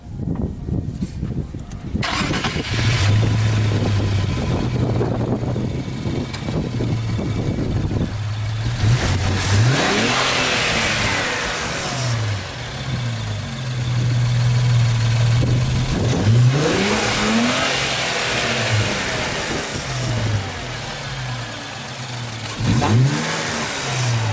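An Infiniti Q50 engine fitted with K&N intakes revs repeatedly in loud, rising bursts with an airy intake whoosh, settling back toward idle between pulls.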